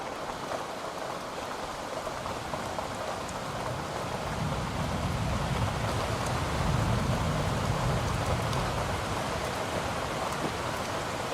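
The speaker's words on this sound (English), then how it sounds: "this Brooklyn rain, this city rain right here, and then definitely this thunder rain ambiance" Steady, dense city rain in Brooklyn hisses evenly throughout, layered with a low rolling thunder rumble that swells through the middle and fades again; no voices.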